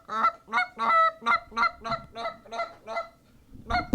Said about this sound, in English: That's a Canada goose.